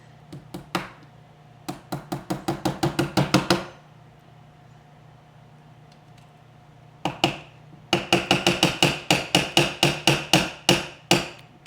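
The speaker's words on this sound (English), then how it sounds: "We got our hammer, we got our 4 pins." Two bursts of rapid hammer blows driving pins into a Taurus TX22 pistol during a trigger installation, each a quick run of sharp metallic taps growing louder, separated by a few seconds of quiet.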